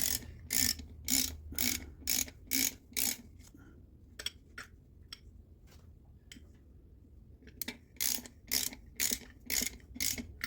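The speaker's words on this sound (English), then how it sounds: "I'm not putting any foot-pounds on these at all, no torque. I'm just seating them at the bottom." A ratchet wrench snugs the intake manifold bolts on a 1972 Corvette L48 small-block Chevy, clicking in quick, evenly spaced bursts of several pulls each, with a quiet pause in the middle before a final run of close, crisp clicks.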